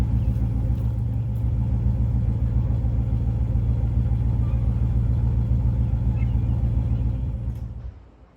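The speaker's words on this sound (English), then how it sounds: "All right, the engine is running." Engine of a 1994 Dodge van runs at a steady, deep idle rumble close to the microphone, then shuts off and fades away at the end.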